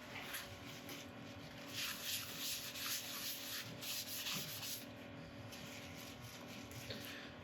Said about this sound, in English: I'm just going to give this a quick clean over with isopropyl